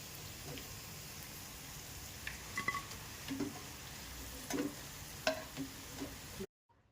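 Corn pakoda fritters deep-frying in hot oil, a steady soft sizzle with occasional faint pops and spoon stirs as they are turned, fairly quiet, ending abruptly in silence.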